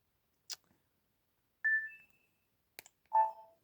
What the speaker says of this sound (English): it has some sound effects from Wild World